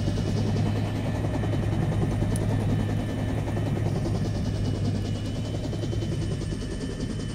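A Chinook helicopter in the game Onward passes overhead, a loud, steady low rotor drone that fills the whole stretch with little change.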